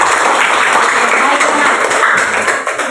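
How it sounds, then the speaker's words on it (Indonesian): Classroom applause for a student, a short burst of steady clapping from a group, close and fairly loud. "Ya, silakan tepuk tangan untuk Arumi"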